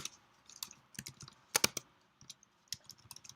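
Keys tapped on a computer keyboard while coding, with soft scattered clicks and a short cluster of sharper, louder presses in the middle, close and alone with no talk.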